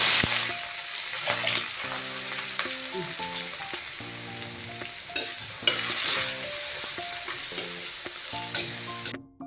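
Onions and cumin, with two dried chilies, sizzle in a hot pan while a utensil stirs and scrapes, producing a steady frying hiss punctuated by sharp clinks near the end.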